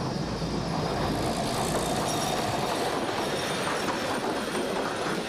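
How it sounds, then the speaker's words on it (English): Savannahlander two-carriage diesel motor rail train with no locomotive, running on an old mining-company line near Mount Surprise; a steady, loud rumble of wheels and engine fills the whole stretch without pause. "This two-carriage motor rail has no locomotive. It's propelled by an inbuilt diesel engine"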